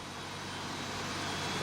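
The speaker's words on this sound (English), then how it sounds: "Engine number 2 starting up." An Icelandair Boeing 767 jet engine spooling up on start in the Prepar3D v5 flight simulator: a steady, dense broadband roar that builds slightly, with no voices.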